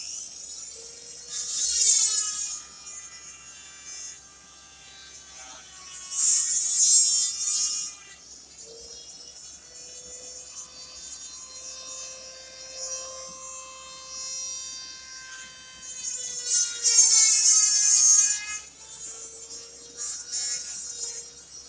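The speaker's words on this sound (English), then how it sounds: "take my Dremel and open this section up a little bit so that it's not rubbing there anymore" A Dremel rotary tool grinds down a section of a wooden take-down bow, a high whining buzz that swells louder in several bursts and eases between them, close and steady throughout with no voices.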